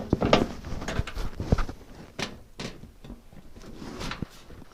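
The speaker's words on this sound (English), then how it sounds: "we should be able to slide it right into our drawer slide" Drawer slides on a Mac toolbox scrape and clunk as a drawer is pushed in, giving several short knocks and rattles at close range, quiet and uneven.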